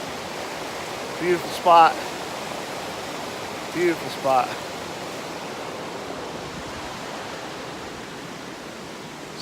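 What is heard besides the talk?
creek water flowing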